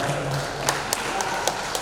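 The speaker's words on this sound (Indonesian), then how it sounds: "Tepuk tangan dong" An assembly applauds in a regional parliament plenary hall after the 2025 budget is agreed. The clapping is brief and moderately distant, a dense patter with a few sharper claps standing out.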